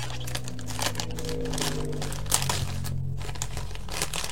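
Plastic parcel packaging crinkles and rustles steadily as a package is unpacked, close and continuous for a few seconds with no talk.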